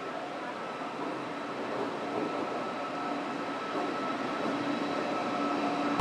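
A Barmer-Guwahati Special Express passenger train with ICF coaches and a WAP-7 locomotive at the platform fills the clip with a loud, steady rumble and broadband noise that barely changes throughout, with no clear voices.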